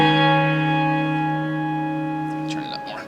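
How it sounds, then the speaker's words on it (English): Guitar chord ringing through a reverb pedal with a shimmer effect, sustaining with bright octave-up shimmering overtones for over two seconds before fading into a brief, wavering pitched tail. "So this is a delay pedal, or not, sorry, a reverb pedal, but it's also got like a shimmer effect to it."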